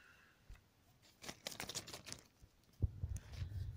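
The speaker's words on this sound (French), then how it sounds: "une petite série d'autocollants. Donc je vais les déballer." A small set of stickers is unwrapped up close, with light crinkling and rustling of packaging that comes in quiet bursts, then turns into a denser run of handling noise toward the end.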